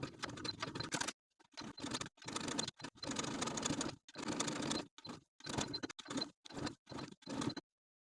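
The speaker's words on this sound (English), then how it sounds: "I'm just going to zigzag stitch each of these pieces in place" Sewing machine running a zigzag stitch through fabric on a squeaker toy, in close, loud bursts of rapid whirring and needle chatter, separated by short pauses.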